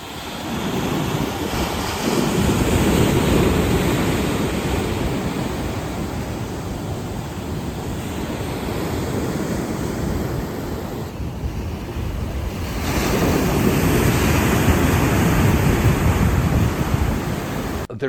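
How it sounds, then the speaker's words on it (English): Loud, continuous ocean surf rolling in near a pier, with waves swelling and easing in a slow cycle and heavy wind buffeting the microphone throughout. "The surfers haven't been able to catch any waves."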